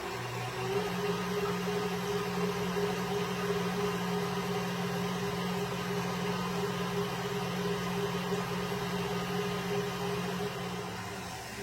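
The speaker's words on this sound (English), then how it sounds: "we are going to beat these egg whites until they are coming up to a stiff peak" A stand mixer with a whisk attachment beats egg whites toward stiff peaks, giving a steady, loud motor whir that holds an even hum for about twelve seconds, nearby and alone.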